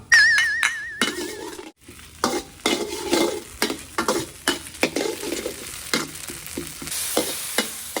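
Snakehead fish stir-fried with soybean paste in a pan for a celery stir-fry, with a steady sizzle under repeated sharp scrapes and clinks of a spatula against the pan, close and fairly loud throughout.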